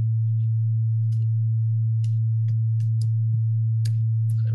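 Self-oscillating VCF in VCV Rack with resonance set too high, producing a steady, loud low sine-like tone throughout, with scattered faint clicks and chirps on top.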